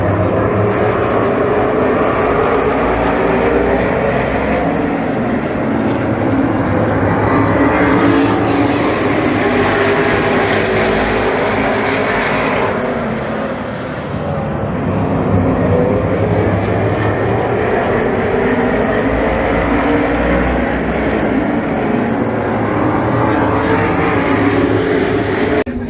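Modified race cars in a B feature race at Las Vegas Motor Speedway, a loud sustained roar of engines that swells as cars pass close by, dips briefly, then builds again.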